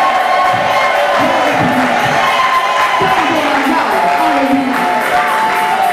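A church congregation cheers and acclaims the Lord in a loud, sustained crowd roar, with shouts and whoops rising over the steady din.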